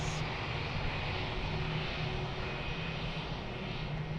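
A British Airways airliner at Lisbon Airport produces a steady, faint engine roar with a low hum underneath, continuous and distant, with no speech.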